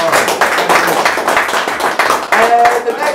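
A quiz-night audience bursts into brisk applause, a dense run of hand claps close by and fairly loud for a few seconds, with a voice or two faintly underneath.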